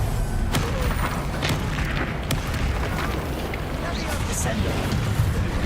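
Confringo blasting-spell explosions in the video game Hogwarts Legacy, a dense rumbling roar of booms and blasts that stays loud and steady throughout, with a voice shouting over it.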